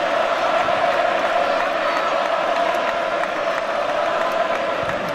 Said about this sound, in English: And the applause is for Totte.